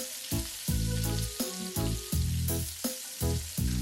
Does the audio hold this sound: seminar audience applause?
no